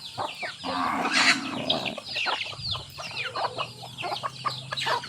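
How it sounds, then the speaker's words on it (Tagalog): Several native backyard chickens cluck and chatter nearby in irregular bursts, with occasional louder squawks and no talking. "Pambisitahin yung mga manok natin pagkatapos ng bagyo"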